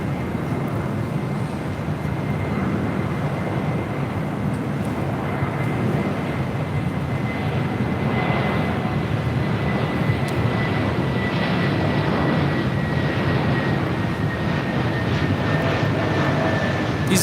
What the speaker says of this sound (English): It's Delta Airlines 652 coming in from Orlando on an A321 Neo.